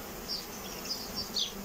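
Honeybees from a swarm caught in a trap, a drone-laying colony, buzz steadily around a hive while carrying pollen, a faint continuous hum with a few brief louder passes of individual bees close by.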